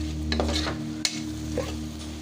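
Tomatoes sautéing with salt in a covered pan, giving a steady low sizzle with a brief stir or lid clink partway through and no voices.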